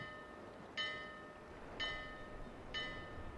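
A bell in a video game pirate-ship scene strikes three times at an even pace, each a bright, ringing tone that decays over a faint, continuous background hum.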